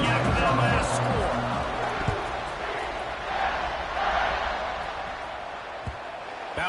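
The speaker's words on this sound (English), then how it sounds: "this crowd is buzzing after that last score." A football stadium crowd at a BYU versus UCF game buzzes and roars in a steady wash of noise, loud and sustained, with talk running over it.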